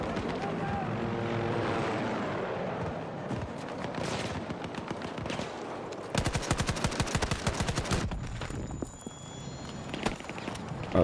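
Helicopter in the video game Battlefield 6, a steady rotor and engine drone running through the whole stretch, joined midway by loud rapid bursts of machine-gun fire.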